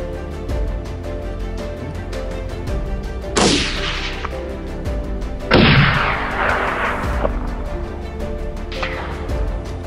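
Two sharp rifle shots at a wild boar during a California hunt, sounding loud and close with a booming crack and a rolling echo after each, the second shot heavier, over a steady outdoor hum.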